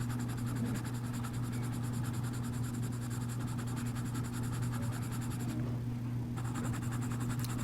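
A pencil moves across paper while someone draws Frankenstein's monster. It sounds as a soft, continuous scratchy rustle close by, under a steady electrical hum, with a short pause near the end and no talking.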